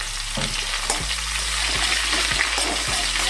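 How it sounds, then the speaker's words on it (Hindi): Onions, cumin and asafoetida frying in hot oil, a steady loud sizzle with stirring scrapes, close up and without talk. "तो तेल मेरा गर्म हो चुका है, इसमें डाल रही है थोड़ी सी हींग, साथ में जीरा, साथ में डाल देंगे प्याज"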